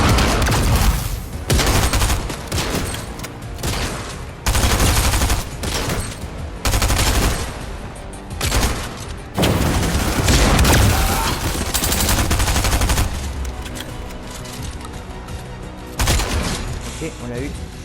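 Gunfire in the Fortnite video game comes in loud, dense rapid-fire bursts with booming grenade explosions mixed in. The shots are separated by short pauses across the whole stretch.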